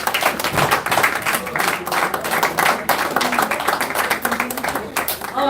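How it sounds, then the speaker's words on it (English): A forum crowd in Abuja applauds feminist speakers, dense overlapping clapping that stays loud and steady throughout, with voices mixed under the claps. "A round of applause for our feminists."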